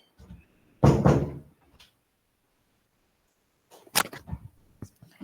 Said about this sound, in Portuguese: é o barulho lá da minha cozinha. Eu tive que fechar a porta aqui